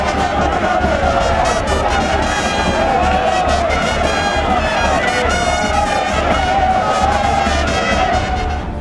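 A large, dense crowd cheers and shouts to welcome Kinshasa governor Gentiny Ngobila Mbaka on avenue Elenguessa, a loud and continuous roar of many voices that never lets up.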